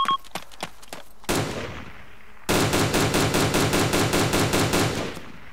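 Rapid automatic gunfire from the military video game ArmA 2: a few sharp isolated shots, then a heavy burst and a long, loud sustained rattle of repeated reports, up close with no talking.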